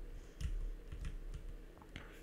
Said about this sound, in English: just typing that in